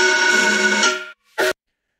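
A strange synth patch built in the Portal plugin, sounding big and washed out as if its reverb were running out of control: a dense sustained wall that cuts off, then one short loud burst after a gap.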